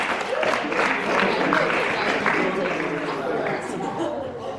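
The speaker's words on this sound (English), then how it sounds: "Everybody, another round of applause for the outliers" Audience at a university engineering week event gives a sustained round of applause, a loud even roar of clapping with some voices mixed in.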